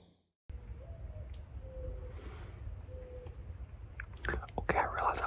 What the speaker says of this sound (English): listen to the cicadas hum and the crickets chirp